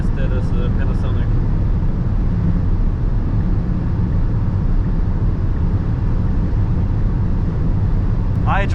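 A 2025 Tesla Model Y cruises at high speed on the German Autobahn. Cabin rumble and road and wind roar fill the clip as a loud, unbroken noise, with brief faint chimes near the start and end.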